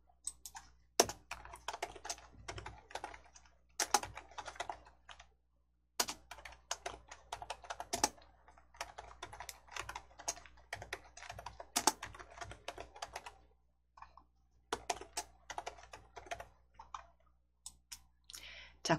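Computer mouse and keyboard clicking during a block-coding lesson, steady bursts of close, dry clicks and taps that run for long stretches, stopping briefly now and then, with no talking over them.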